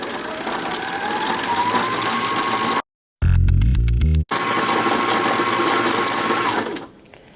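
An embroidery machine winding its bobbin whirs steadily and loudly, with a short break midway where a quick mechanical ratcheting run sounds before the even motor hum resumes and then cuts off at the end.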